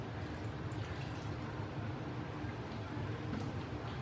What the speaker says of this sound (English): I think that's probably a cup that I poured in there